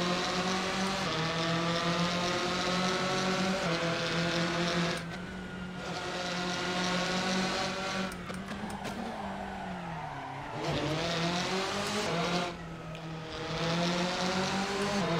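A rally car from the Rally Legends mod in Assetto Corsa revs hard, its loud engine note holding steady, then dipping and climbing through gear changes over a continuous rasping drone.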